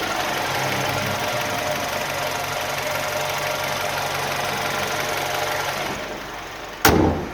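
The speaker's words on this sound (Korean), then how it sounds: "엔진음은 어떨지 한번 듣고 총정리 한번 해드릴게요" The engine of a Mercedes-Benz GLB 250 4MATIC SUV idles with the hood open, a steady low hum with faint ticking that stays even and close, followed by a brief sharp knock near the end.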